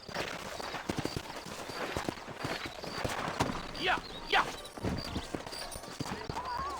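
Horse hooves clip-clop in a Red Dead Redemption town in New Austin, a steady rhythm of hoof strikes under ambient game sounds, with a brief whinny-like call and someone talking.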